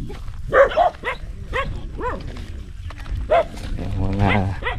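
A fierce dog barks and yelps in rough, repeated bursts close by, mixed with people talking over a low background rumble.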